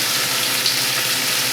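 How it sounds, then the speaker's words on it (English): Drained pasta hitting a pan of hot oil, a loud hissing sizzle that holds steady and bright for a second and a half, with no talk over it. "It is gonna sizzle."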